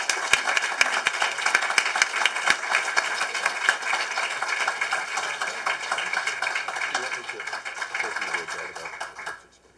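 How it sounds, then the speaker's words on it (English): An audience breaks into a sustained round of applause in a hall, dense clapping holding steady for several seconds before fading out at the end. "So please join me in giving him a round of applause."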